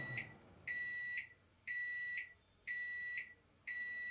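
A Russell Hobbs RHFM2363 non-spinning microwave oven gives four evenly spaced, shrill electronic beeps, each about half a second long, in an otherwise quiet room.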